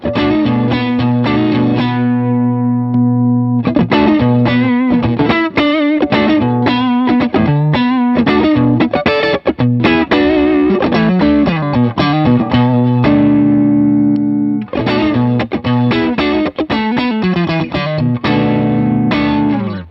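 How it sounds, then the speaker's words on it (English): Electric guitar runs through a Tube Screamer pedal set for boost into a Fender Hot Rod Deville amp, giving a loud, overdriven tone with sustained chords and quick riffs over about twenty seconds and a brief pause partway through, with no speech. "let's try this Tube Screamer sound on volume to the boost and see what the difference is"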